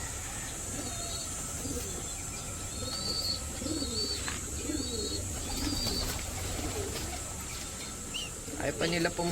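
Young pigeons in a loft give soft, low cooing, repeated throughout over a steady background hum, with a few higher chirps and light rustling near the end.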